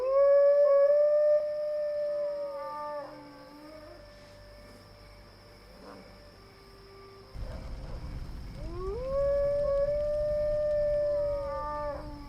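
A wolf howls in a fantasy role-playing game (Drakensang: The River of Time): long, loud rising and falling howls, one early and another after a pause, over a steady low ambient drone with no speech.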